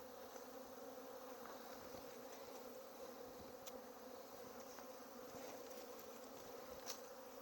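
Steady, close buzzing of many honeybees around a wet hive being robbed, a continuous drone with occasional brief sharper passes, no talking.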